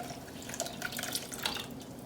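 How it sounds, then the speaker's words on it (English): Four cups of warm milk are poured into a pan for a cheese sauce in a tuna casserole. A faint, steady liquid splash and trickle runs continuously, with a few small drips. "I'm going to add that 4 cups of warm milk."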